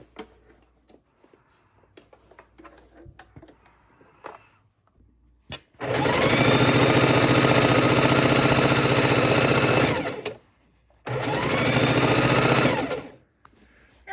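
A sewing machine stitches quarter-inch seams down quilt strips, running in two steady bursts, a long one of about four seconds and a shorter one after a brief pause, following quiet handling sounds.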